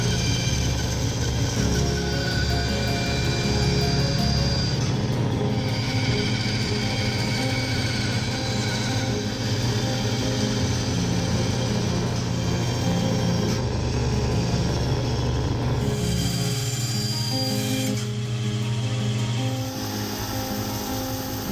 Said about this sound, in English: then I cut it out on the bandsaw